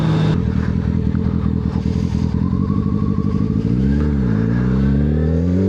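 Motorcycle pulling away after an upshift into fourth gear: loud, close engine drone with a brief dip as the clutch and throttle change, then the revs climbing steadily under acceleration.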